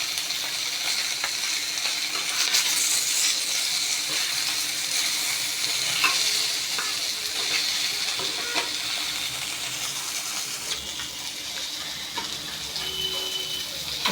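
Koi fish fry crisp in a hot pan, giving a steady, moderately loud sizzle with faint crackles and stirring scrapes throughout. No one speaks.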